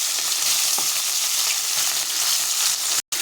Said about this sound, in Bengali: মাছটা ভাজা হবে, মাছটা উঠে দেবো।